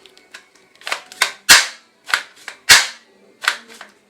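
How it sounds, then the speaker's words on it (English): Toy shotgun firing ball and soft bullets, a quick irregular series of sharp, snappy close pops, some louder than others. "Let's try and shoot."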